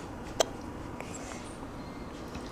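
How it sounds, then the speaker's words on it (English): A single short, sharp hiccup from a person, heard alone over a quiet room hum. "You got the hiccups."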